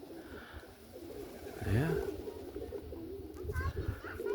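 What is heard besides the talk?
roller pigeons cooing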